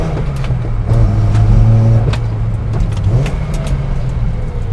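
A Datsun 240Z engine revs and accelerates hard, a loud, close, throaty drone that swells and holds before easing slightly, heard alone without talk.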